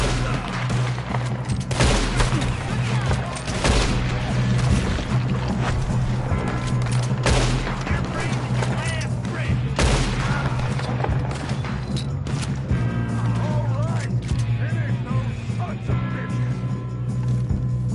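Gunfire in Red Dead Redemption 2 during a shootout with the O'Driscolls, repeated shots and a fusillade over a steady low hum, with voices talking throughout.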